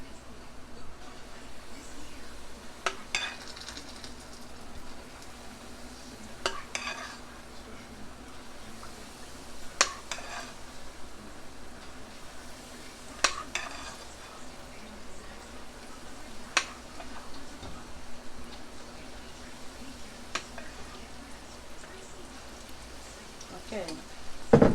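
Banana fritters fry in hot oil with a soft, steady sizzle, broken by occasional sharper crackles and utensil clicks, while someone talks over the cooking at times.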